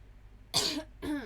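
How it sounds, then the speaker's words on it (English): Two short, rough throat-clearing bursts close to the microphone, separated by a brief pause. "I can't clear my throat today."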